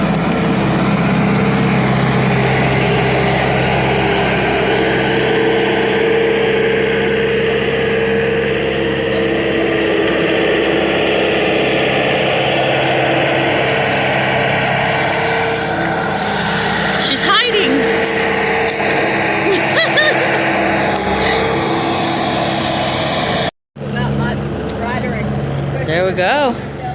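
A newly bought tractor engine runs loud and steady at close range for the whole stretch, a constant noisy drone with low rumble and a brief cut near the end, and no talking over it.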